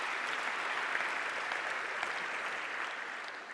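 Sustained audience applause fills a university lecture hall at Cedarville University, a steady dense wash of clapping at even loudness throughout with no voices above it.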